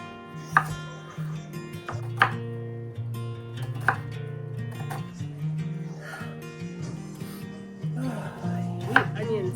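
Knife chopping onions on a board for borscht, a few distinct sharp thuds spaced out over steady background hum and soft kitchen noise, with occasional faint voice.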